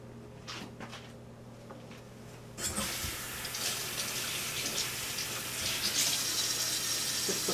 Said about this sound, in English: Let me rinse my hands for a minute.